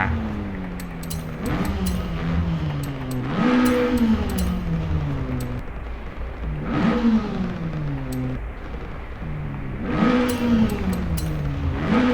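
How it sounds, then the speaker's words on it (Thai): A turbocharged Mazda 323 GT-R engine in Forza Horizon 5 repeatedly climbs in pitch and drops back in roughly three-second cycles, with a whooshing turbo hiss at each peak, loud and steady. "โอ้โหเสียงเทอร์โบ"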